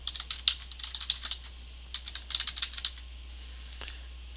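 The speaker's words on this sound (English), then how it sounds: "and then if I type a query" Close, crisp clicking of a computer keyboard as a database query is typed, quick irregular bursts of keystrokes with short pauses between them, no talking.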